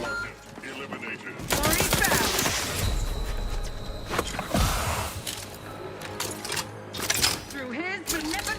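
Gunfire from the video game The Outer Worlds 2 crackles in dense, loud volleys that start abruptly and continue in overlapping bursts, with game sounds and a voice mixed in.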